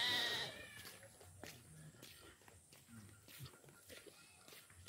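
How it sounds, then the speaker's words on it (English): A village goat bleats once at the start, a short, fairly loud cry nearby, followed by quieter outdoor rustling and faint footsteps. "See, that's another person's goat."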